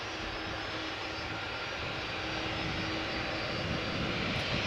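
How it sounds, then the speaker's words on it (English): Delta Airlines Airbus A330-300 landing on the Polderbaan runway at Amsterdam Schiphol, a steady broadband engine roar with a faint tonal whine, heard from a distance and holding even throughout. "Delta Airlines Flight 164 having landed on Polderbaan just now, arriving from Minneapolis"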